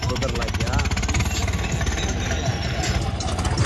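A New Holland T7.210 tractor idles close by with a steady, rapid knocking throb, while voices talk over the engine.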